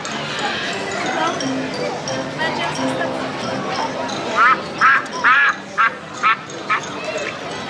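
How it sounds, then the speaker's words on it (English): Ducks quack in a quick run of short, loud bursts, rising above a steady murmur of background chatter and outdoor noise at a theme park. "We've got some ducks here as well."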